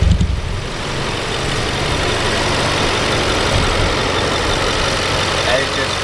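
A 2013 BMW X6 M with a twin-turbo 4.4 liter V8 idles with a steady, even low rumble that holds at a constant level throughout.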